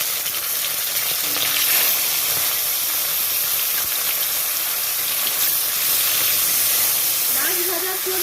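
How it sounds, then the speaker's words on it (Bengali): Live fish frying in hot refined oil in a kadai over a gas flame, a steady loud sizzle and hiss across the whole stretch with a voice briefly underneath. "গ্যাস জেলে কড়া বসিয়ে দিয়েছি, এবার মাছগুলো ভেজে নেব।"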